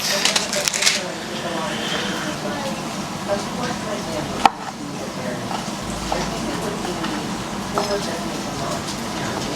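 A knife cutting a tomato on a board while cooking pinakbet at home. The chops are light and irregular, partly buried under a person's talking and general kitchen background noise.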